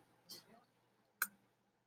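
A single crisp computer mouse click sounds close and quiet in a near-silent room, after a soft brief rustle.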